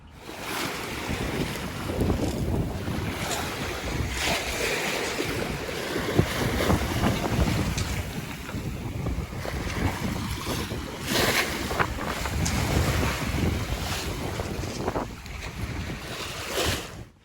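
Steady broadband rush of wind and ocean waves surrounds a sailboat running offshore between West Palm Beach and Charleston, with constant wash against the hull and gusting wind buffeting the microphone throughout, no voices.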